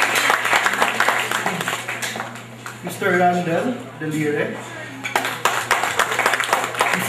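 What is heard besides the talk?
audience applause for graduates' accomplishment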